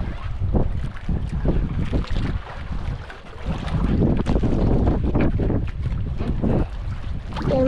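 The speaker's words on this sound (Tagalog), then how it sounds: "lakas ng alon" A small fishing boat out on rough sea: strong waves slap and surge around the hull while wind buffets close and loud, a continuous rumble with repeated swelling bursts and no talk.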